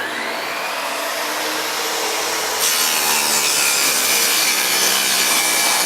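A table saw cuts a rabbet along a wooden bookcase side, its blade set 3/8 inch high and 1/4 inch from the fence, giving a loud, steady whining rasp that brightens partway through and stops abruptly, with no talking.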